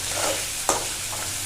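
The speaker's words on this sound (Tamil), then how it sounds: "இப்படிதான் முட்டை பொரிக்கணும்" A soft, steady sizzle of an egg frying in a pan, with a single light clink of a utensil partway through.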